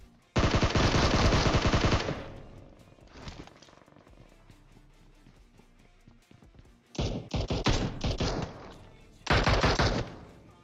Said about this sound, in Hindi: और अब मैं यहाँ पे एके की गोलियां बर्बाद कर रहा हूँ